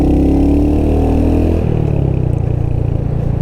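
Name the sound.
Hunter 350 motorcycle pulling away under throttle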